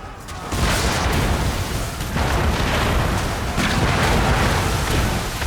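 Mortar shells exploding in a video game battle, a dense and continuous barrage of loud booms and blasts with no pauses, heavy rumble filling the scene throughout.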